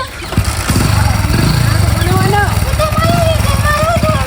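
A motorcycle nearby catches with a sharp start and settles into a loud, steady idle throb, while people talk over the running engine.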